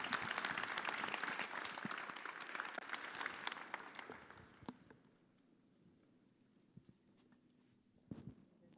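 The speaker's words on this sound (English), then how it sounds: "Let's give another round of applause to Manon, Wei, and Selda." An audience claps after a fireside chat talk at an energy tech event, with dense applause for about four seconds that fades out, followed by a few isolated claps and light shuffling.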